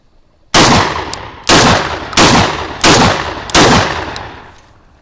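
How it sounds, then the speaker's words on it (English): A Maestro Arms bullpup 12 series shotgun fires five loud, evenly spaced blasts, each with a sharp crack and a decaying ringing tail, with no talking. "new shotgun, bullpup 12 series. I try this one also."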